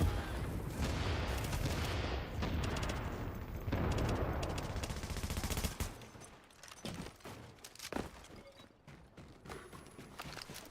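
Rapid gunfire from The Division during a Blackout global event mission, a dense loud fusillade for the first six seconds, then scattered sharper single shots and bursts at lower level with faint voices.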